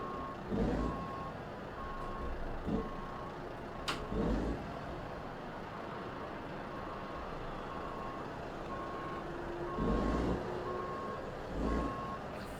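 Repeated reversing beeps from a truck in American Truck Simulator on an Iowa route, steady evenly spaced tones sounding over a continuous engine rumble, with a few louder low thumps in between.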